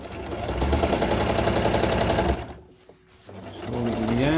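A sewing machine stitches fabric box corners in a steady, fast whirring run, then pauses briefly while the fabric is turned, with a few small clicks before stitching resumes at close range.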